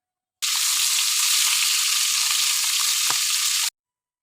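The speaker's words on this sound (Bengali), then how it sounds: "মাছগুলো একটু ছড়িয়ে দিয়ে তারপরে লাল লাল করে ভেজে নিব" Fish frying in hot oil gives off a loud, continuous close sizzle as the pieces are turned over, with one brief clink partway through, starting and stopping abruptly.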